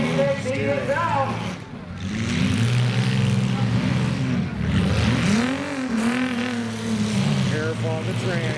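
Compact demolition derby cars in a limited weld class roar with sustained engine revving and rumbling close by, harmonic pitch sweeping up and down as they ram and push, with a commentator talking over the noise.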